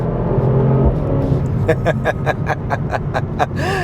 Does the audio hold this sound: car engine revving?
yes